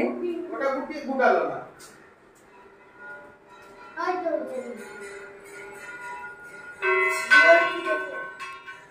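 A brass bell-metal gong (kansar) rings in a few bright, clanging bursts separated by pauses, with people talking nearby at a Rath Yatra festival.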